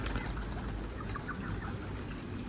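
Pigeon-like birds coo softly among a flock in an outdoor street setting, low murmuring calls repeating over steady background noise, with no talk.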